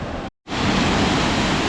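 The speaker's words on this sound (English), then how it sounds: "This is the Bridal Veil Falls, and they've really carved out the rock." Bridal Veil Falls waterfall on a mountain hiking track, a dense, steady roar of falling water heard close and loud, broken once by a brief dropout, with no voices.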